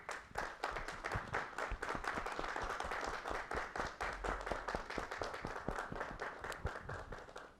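A crowd gives steady, sustained applause at a university theology graduation ceremony at PUC-Campinas, with dense clapping heard from a moderate distance that carries on throughout without any talk.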